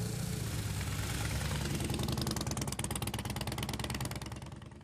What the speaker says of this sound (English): John Lee loved the sound of his motorcycle.